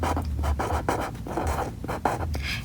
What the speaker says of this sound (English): We're going to write farmer here.